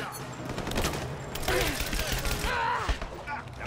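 Gunfire from the video game Rise of the Tomb Raider, dense rapid bursts of shots layered over game music and effects, with a player talking over the action.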